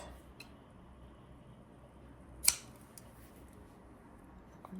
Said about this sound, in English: I'm going to snip the corners off.